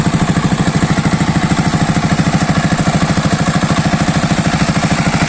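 A field water pump machine runs in a sunny village farm field, giving a steady, loud, rapidly thumping engine rhythm that stays unchanged throughout with no talk.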